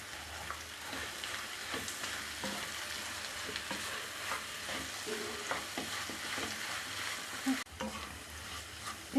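Beef stir-frying with pepper powder and curry leaves in a pan, a soft continuous sizzle broken by the scrape and knock of a spoon stirring, fairly faint and close, with no talking.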